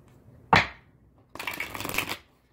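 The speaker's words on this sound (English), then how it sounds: "So I'm going to shuffle the cards about 3 times." Tarot cards are shuffled: a quick sharp riffle, a brief pause, then a longer rustling shuffle of close cards lasting under a second.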